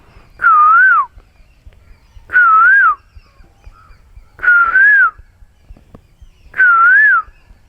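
A nature guide in the jungle whistles an imitation of a koel's call: four evenly spaced, rising-and-falling whistled phrases, close and clear, with no talking.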